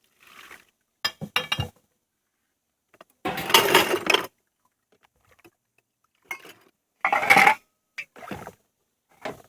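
Silverware dropped into a towel-lined holder in bursts: soft clinks and rattling metal clusters, a couple of longer jangling handfuls, with short pauses between, close by and moderately loud.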